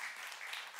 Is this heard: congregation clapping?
yes